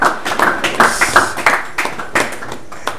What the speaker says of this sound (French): Si on peut l'applaudir ensemble.